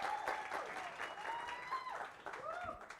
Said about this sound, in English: Please, one more time, a round of applause.